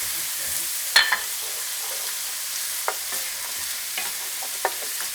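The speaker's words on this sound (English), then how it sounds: "And then immediately you can put in an onion." Chopped onion frying in a pan with a faint steady sizzle, broken by a few clinks and scraping stirs of a utensil; no talking.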